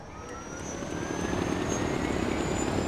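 Gyrocopter in Far Cry 4 with its rotor and engine droning steadily, building slightly louder over a few seconds, a continuous whirring hum with a rising engine whine and no talk.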